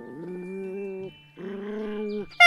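A dog vocalizes up close in two sustained, tonal whining growls of roughly a second each, separated by a short pause, then a brief sharper yelp at the end, with no talking.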